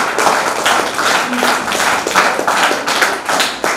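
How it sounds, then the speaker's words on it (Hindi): Audience clapping loudly at a Hindi language fortnight closing ceremony at a law college, a dense, close burst of rapid hand claps sustained across the whole stretch with slight swells. "तालियां बजाओ"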